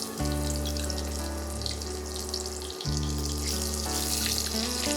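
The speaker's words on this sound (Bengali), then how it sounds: "হালকা করে ভেজে দেবে চিংড়ি মাছ" Small prawns fry lightly in a pan over a low flame for a Bengali pumpkin-greens chorchori, giving a steady, even sizzling hiss under a loud continuous hum.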